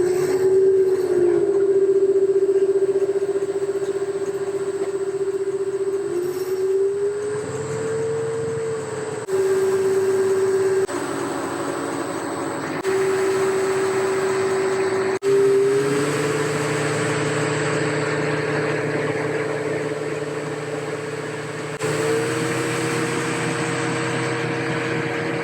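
A workshop lathe runs with a steady motor hum that steps between several distinct speeds, each pitch holding for a few seconds before shifting up or down, with no talk over it.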